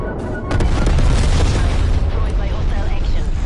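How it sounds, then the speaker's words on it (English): Napalm strike in the video game Call of Duty Black Ops Cold War: a heavy boom swells into a sustained, roaring blast that rumbles loudly and steadily to the end. "Enemy napalm strike incoming"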